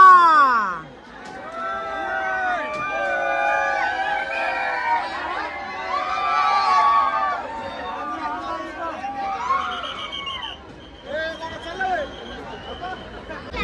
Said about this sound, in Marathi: बीडकरांचा जल्लोष बीडकरांचा उत्साह